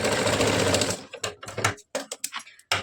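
A sewing machine stitching a katori blouse: a steady fast run of stitching, then several short stop-start bursts of rattling needle action, close and clear, with no speech.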